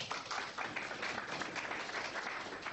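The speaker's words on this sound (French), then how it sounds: "Eh oui, applaudissements, c'est normal." Applause at a European billiards championship semi-final in Lyon in 1986 forms a steady, distant wash of clapping from the hall throughout.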